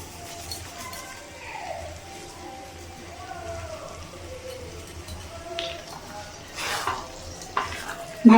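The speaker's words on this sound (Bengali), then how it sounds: "ভালো করে নাড়াচাড়া করে নিচ্ছি।" Palak paneer with roasted kasuri methi being stirred in a pan makes a soft bubbling and sizzling sound with gentle spoon scrapes, followed by a louder clatter at the very end.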